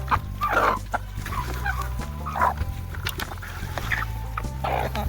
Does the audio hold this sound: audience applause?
no